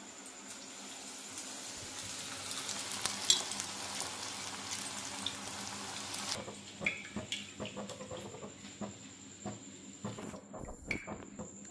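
Bottle gourd kofta balls frying in hot oil, a steady sizzling hiss for about six seconds, then quieter with scattered pops and soft clinks of a utensil.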